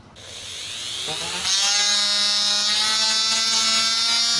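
A small rotary tool whines at high speed, drilling a small hole in a guitar, its pitch climbing as it spins up and bites into the material, loud and close.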